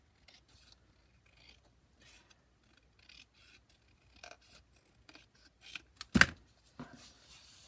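Scissors snip paper for a junk journal booklet in a series of quiet, close cuts and rustles. The snips grow denser and louder toward the end, with one sharp crisp cut near the close and no voices.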